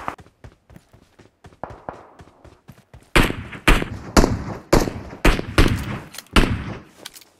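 Sharp gunshots in PUBG Mobile on Erangel, first a quick run of faint, evenly spaced cracks, then about a dozen much louder, closer shots fired in irregular bursts.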